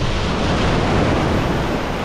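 Ocean surf breaking on a rocky Rhode Island shore during spring striped bass fishing, a steady loud broadband wash of waves with no pauses and no speech.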